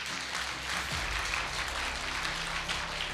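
An audience claps briefly at a sales presentation on inviting new prospects, a soft steady patter of many hands heard fairly far off, with no talking over it.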